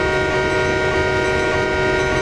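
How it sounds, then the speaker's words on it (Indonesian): A lori rail cart train rolls steadily along narrow-gauge track, a continuous rumbling run with a sustained horn-like tone, close and loud throughout, no voices. "Iya, keretanya kembali lagi ke sana."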